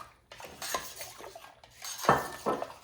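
A spoon stirring homemade Jamaican sorrel drink, clinking against the container in a few quick, uneven taps and scrapes at close range.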